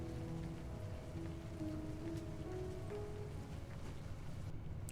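Soft, even rainfall hisses steadily in the video game A Story Beside, with gentle sustained musical tones playing quietly over it.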